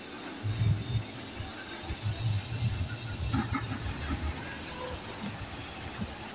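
A train standing at Katkamsandi railway station in Hazaribag, India, gives off a steady low rumble and engine hiss with faint clanks and creaks, fairly close and continuous, with no talk over it.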